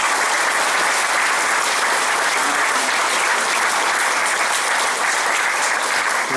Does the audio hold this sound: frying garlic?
no